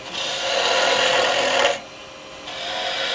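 A carbide chisel scrapes steadily against spinning hardwood on a lathe, a continuous loud rasping hiss that drops briefly in intensity midway before rising again, close by and without talk.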